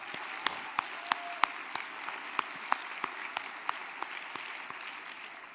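Light applause from a modest audience at a small business awards luncheon, a thin patter of scattered claps with a few sharper individual ones standing out, moderately distant.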